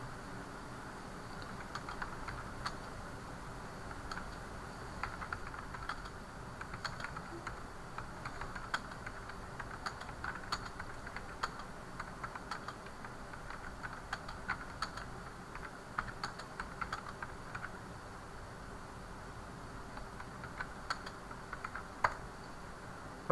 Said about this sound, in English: Beta, I am typing.